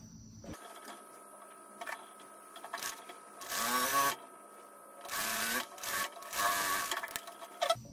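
Sewing machine stitching together fabric strips for a quilted strip project, heard in three or four short bursts of close mechanical whirring and rattle separated by quiet pauses, with no talking.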